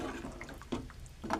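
Toor dal with ghol leaves simmering toward a boil in a pot, giving a faint, soft bubbling and a few gentle liquid pops, close and quiet.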